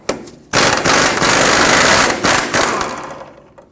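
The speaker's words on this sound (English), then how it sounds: "Use a 27mm socket and remove this mounting nut." An impact or power tool spins a 27mm socket to remove a track bar ball joint mounting nut on a 2011-2016 Ford F-350, a loud close burst of rapid rattling hammering that runs for about two seconds, then tapers off.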